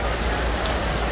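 Heavy rain pours down at the Mandalika racing circuit in Indonesia, a dense, steady hiss of falling water that stays loud and even throughout.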